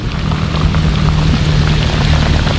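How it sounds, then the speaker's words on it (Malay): Rain falling outdoors near salt-water tilapia fishing grounds, a steady close wash of drops pattering on surfaces without a break, loud and even, with no talking. "Itu hujan tu."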